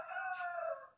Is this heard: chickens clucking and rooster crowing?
yes